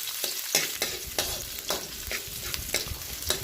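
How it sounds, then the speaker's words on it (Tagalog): Garlic and onion are sautéed in a pan for an ampalaya dish. A continuous sizzle is broken by regular, fairly loud scrapes of a spatula every half second or so, with no talking. "Gisa-gisa natin muna itong bawang at sibuyas."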